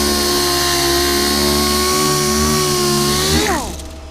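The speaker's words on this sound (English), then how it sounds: "you can hear the compressor just kicked on right over here" An air compressor starts up in a shop during rust stripping with a DA sander and an Eastwood Contour SCT on a Road Runner fender, its steady motor drone dropping in pitch near the end.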